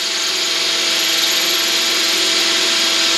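A steady, high-pitched power drill whines continuously at close range, boring into very hard steel on an RV, grinding without pause for the whole stretch.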